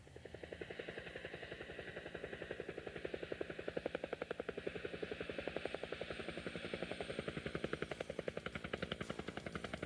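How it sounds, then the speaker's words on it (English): Helicopter rotor from the High Roller Battle video game on the Pioneer LaserActive, a fast, steady rhythmic thumping chop with engine drone throughout, continuous and fairly close. "This game puts you right in the cockpit of a very fast and very powerful helicopter."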